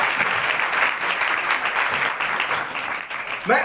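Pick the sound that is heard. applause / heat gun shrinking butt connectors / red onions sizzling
applause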